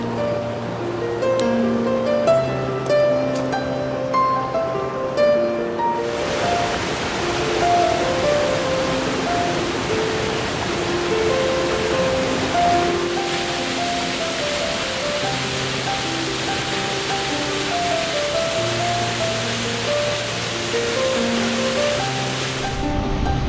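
Crescent Falls, a two-tiered waterfall on the Bighorn River, roars in a steady, dense rush that holds level throughout, heard close and alone with no voices.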